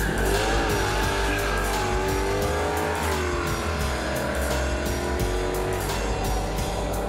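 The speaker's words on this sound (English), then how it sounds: "just build a nice strong engine for it, throw a couple of turbos onto it, make sure everything else sticks together, and just put your foot down" Twin-turbocharged race car accelerating hard at the Snowy Mountains 1000, a loud, continuous engine roar with rising pitch sweeps through the gears and bursts of tire squeal, no talk.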